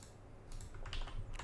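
Brief burst of typing on a computer keyboard while writing JavaScript code, with quick, close, fairly quiet key clicks in a short run.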